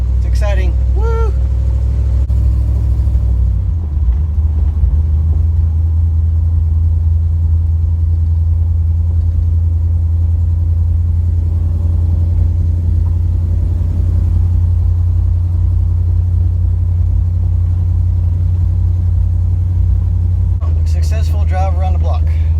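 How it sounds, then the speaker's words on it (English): A Plymouth Duster with a dragging header drives around the block, its engine a steady low rumble throughout with voices talking over it. "And we're going to drive it around the driveway."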